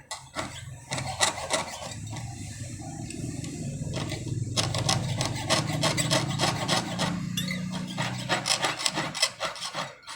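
Steady back-and-forth rasping of a jeweler's saw as a Thai goldsmith cuts a stencil pattern through metal, close up and continuous, with rhythmic strokes and no talking.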